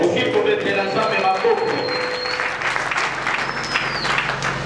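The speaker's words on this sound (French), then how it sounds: "Est-ce qu'on peut acclamer très fort?" A church congregation at a Sunday service claps and cheers loudly, with sustained dense applause, shouts and whistles filling the space from start to finish.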